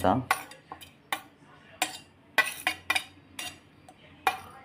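Spices, ginger, garlic, green chilli and coriander being mixed into a potato paratha filling in a home kitchen: a series of sharp clinks and scrapes of a spoon against a metal bowl, irregularly spaced, close and fairly loud, with no talking.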